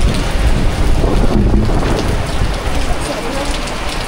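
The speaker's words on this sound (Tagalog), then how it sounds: "Lakas ng ulan." Heavy rain pours down in a dense, continuous roar, loud and close, with a low rumble underneath.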